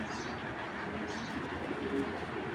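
Pakistani Giribaz pigeons of a Palla line murmur soft, low cooing at close range over a steady loft background hum, a few faint calls rising now and then.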